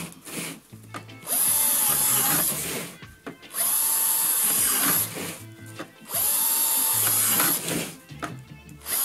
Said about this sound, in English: Then you want to drill holes inside.